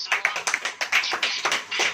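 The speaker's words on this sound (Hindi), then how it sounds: "ताली बजाइए।" A church congregation claps hands in a scattered, uneven rhythm, sharp close slaps in short bursts with small gaps between them.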